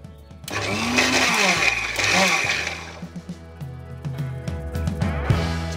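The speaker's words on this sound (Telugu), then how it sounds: "దీంట్లో ఒక 2 స్పూన్లు పెరుగేసి ఒక్కసారి గ్రైండ్ చేసేసుకోవాలి." Mixer grinder whirring as it blends coconut chutney with curd, a loud motor drone that rises and falls in bursts before stopping and restarting.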